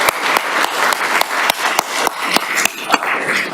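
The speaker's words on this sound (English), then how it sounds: "let's give them a round of applause for all of that" A crowd applauds newly introduced town council members at a chamber of commerce economic development gathering, steady clapping with sharp individual claps standing out throughout.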